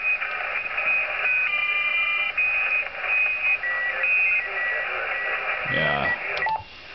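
A ham radio station tuned near 7.145 MHz puts out steady static and hiss with a series of short electronic beeps and tones, ending in a brief sweeping burst.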